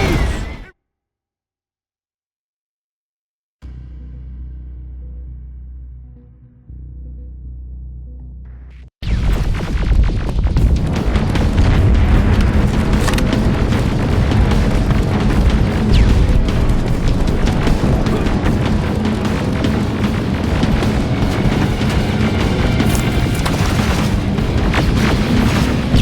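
Rocket explosions in the video game Terminator Resistance come as a dense, continuous roar of booms and rumbling blasts. A quiet low hum leads up to them, and the blasts stay loud and sustained for the rest.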